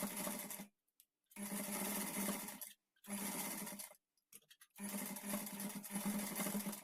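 Sewing machine stitching the back neck of a blouse, running in four steady bursts separated by short pauses, close and loud with no talk.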